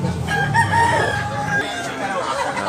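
A Tasmanian hennie gamefowl rooster crows at a cockfighting farm in Tabunok, Cebu, a strained call over a busy background of other birds and noise.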